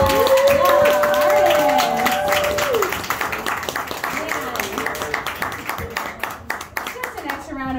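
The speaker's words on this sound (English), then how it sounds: "One more round of applause for our headliner" A poetry show audience claps for the headliner, beginning with a whoop and chatter over the start, then settling into a loud, ragged round of close clapping.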